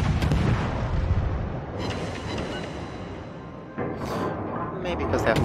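Naval guns from a British warship boom in a World of Warships battle, heavy continuous rumbling blasts with a few sharper bursts, while a voice talks over the gunfire.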